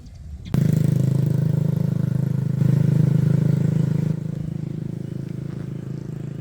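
A motorbike on a road on Bantayan Island starts up abruptly and then holds a steady, close engine drone with a constant rumble, easing slightly in loudness toward the end.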